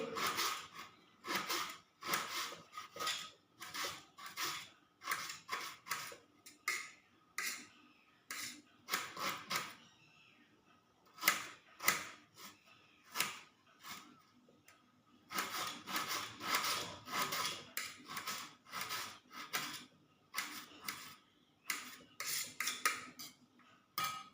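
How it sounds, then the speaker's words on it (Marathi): An onion being chopped with a knife on a board for a brinjal dish in a home kitchen, rapid rhythmic close taps in bursts separated by short pauses, with no talking. "हा कांदा आपण वांग्यासाठी मी चिरत आहे"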